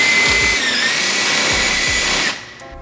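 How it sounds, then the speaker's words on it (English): A power drill bores into a front lip spoiler on a Mk7 VW Golf R, a loud steady whine running for over two seconds before cutting off abruptly. "I'm going to drill in to make a temporary holding"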